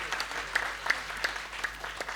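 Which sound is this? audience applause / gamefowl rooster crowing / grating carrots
audience applause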